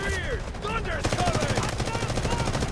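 An M4A1 rifle in the Delta Force video game fires loud, rapid automatic bursts at a steady fast rhythm, with a voice talking over the first part.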